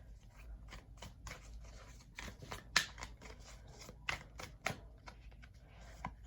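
Nightmare Before Christmas tarot cards being shuffled, a run of soft, quick riffling and flicking card sounds with a few sharper snaps, close and quiet, no voices.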